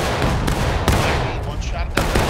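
Musket fire in the Civil War game War of Rights during a line battle, a few sharp cracks over a dense rumbling din of distant shots, loud and crowded.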